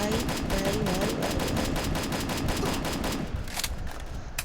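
Rapid automatic gunfire rattles in fast bursts during a shooting video game, dense and sharp for about three seconds before thinning to a few scattered shots.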